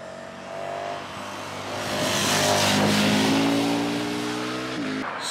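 A big bore adventure motorcycle is ridden hard, its engine revving up and holding high through the gears, swelling louder midway before easing off, with no talking.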